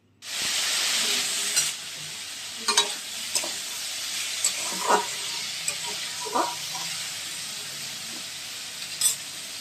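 Cut potatoes, onions and tomatoes start frying in a pan with a sudden loud sizzle that settles into a steady hiss, broken by several brief stirring clinks and scrapes.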